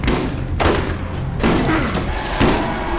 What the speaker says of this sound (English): who's shooting at you now?